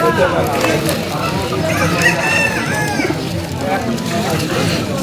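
Giribaz pigeons at a crowded pigeon market give repeated warbling calls that rise and fall, mixed with other bird calls over a constant murmur of people talking nearby.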